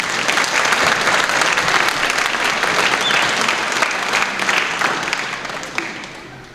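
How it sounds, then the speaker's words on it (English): An award ceremony audience breaks into loud, dense applause that sustains evenly for several seconds, then thins and tapers off toward the end, without voices over it. "So one more round of applause."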